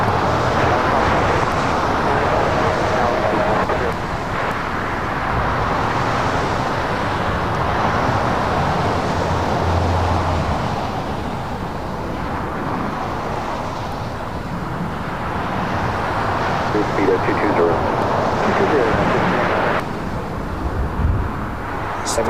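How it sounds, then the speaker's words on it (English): A Lufthansa Airbus A380 from Munich arriving at LAX, a long continuous roar of jet engines swelling and fading gradually with wind noise over the microphone, heard from a distance outdoors. "Our third A380 arrival of the stream here today."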